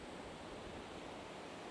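A steady, unbroken wash of ocean surf rolls at a campsite right by the ocean, close and fairly loud, with no distinct wave breaks in this short stretch.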